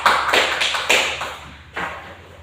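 A classroom audience gives a short burst of applause for a presenter. The close, dense clapping swells twice and then fades, with no talking.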